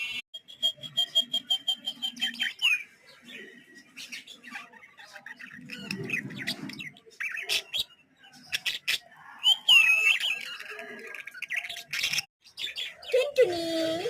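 Pet birds on a home balcony chirp, tweet and squawk in busy overlapping calls, close by, with a person's voice breaking in now and then.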